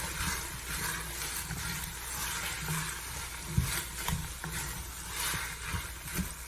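Potatoes being stirred into a Manhattan-style seafood chowder in a pot, with a continuous close sizzle and low scraping, scooping thumps of the spoon recurring irregularly, no voices.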